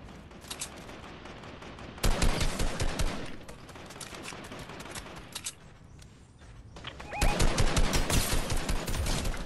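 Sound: sniper rifle gunfire in Fortnite video game

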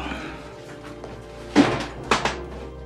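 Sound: drawer being opened in a movie

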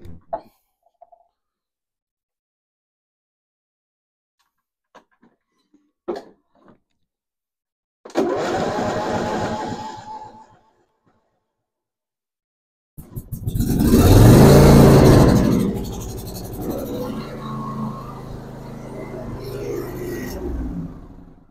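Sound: small engine starting up and running in the cold

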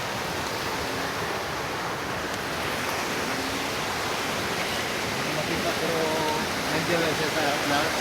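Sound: strong current of a flowing stream

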